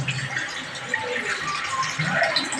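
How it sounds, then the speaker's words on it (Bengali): Water pours steadily into a wok on a gas stove, a continuous splashing gush lasting a few seconds, close and fairly loud with no talk. "কড়াইতে আমি জল দেবো"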